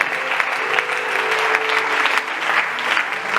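A church congregation at a Sunday prophetic service applauding and cheering loudly, a dense steady roar of clapping hands that holds throughout with voices blended into it.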